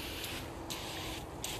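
Easy Off oven cleaner sprayed onto wood furniture outdoors in the cold, a steady close hiss with a few brief pulses of added spray, heard alone.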